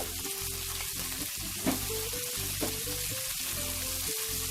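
Gizzard stir-frying in a wok sizzles loudly and evenly, with a couple of brief clanks from tossing, heard up close and steady throughout with no speech.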